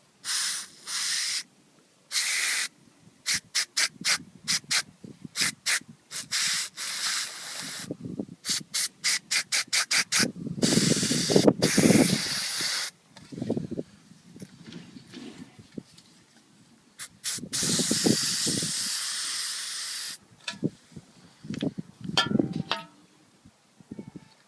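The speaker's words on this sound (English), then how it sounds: "some degreaser. And just going to squirt it in there." Degreaser hisses from a spray can into the EGR valve of a 2003 Mitsubishi Airtrek in repeated bursts, some brief and some sustained for several seconds, close and loud with rubbing and handling noises between them.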